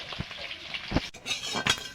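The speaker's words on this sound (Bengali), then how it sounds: "ডিমগুলো ভাজা করে নেব। নাড়াচাড়া করে ভাজা করে নেব।" Eggs are stirred and fried in a pan: short scraping stirs and clinks of a utensil over a soft, steady sizzle, close by, with no talking.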